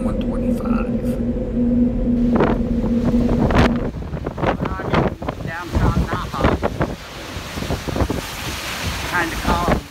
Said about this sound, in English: The winds are pretty strong.